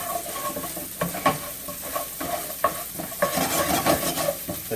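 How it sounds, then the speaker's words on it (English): Ginger and garlic sautéing in sesame oil and a little olive oil for steak fried rice, a steady close sizzle with repeated stirring scrapes and clinks of a utensil against the pan, no talk. "as that continues to sizzle a little bit"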